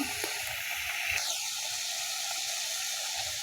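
Fried eggs drop into a pan of frying onion and spice mixture for egg curry, setting off a soft, steady hissing sizzle with faint low bubbling, fairly quiet and without voices.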